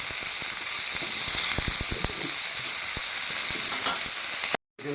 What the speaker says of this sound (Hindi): लहसुन के साथ मैं इसको फ्राई कर रहा हूँ